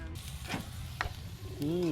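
Food sautéing in a pan at a campsite, a steady sizzle under brief talk, with a few clinks of stirring.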